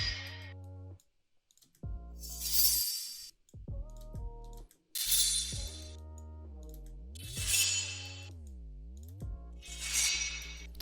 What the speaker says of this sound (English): we can use the same one that we had earlier with the sword here